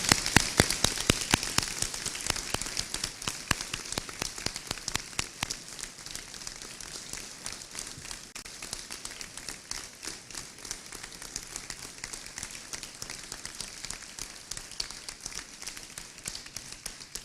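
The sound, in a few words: audience applause for forum delegates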